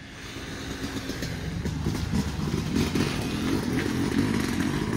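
A dirt bike engine at a coastal homestead hums at moderate distance, its rough drone building slightly in loudness over a few seconds, with no talk.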